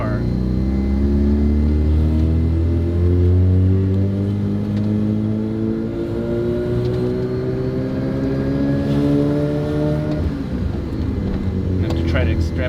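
Rotary engine in a Mazda FC car, running after sitting for 15 years, revving loudly with rising and falling pitch in several pulls, the engine close and dominant as people talk over it.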